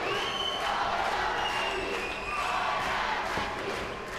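Arena crowd at a 2013 kickboxing fight night in Hungary cheers steadily for a fighter, a dense sustained roar with scattered shouts rising and falling across the whole stretch.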